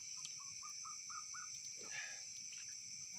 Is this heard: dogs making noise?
no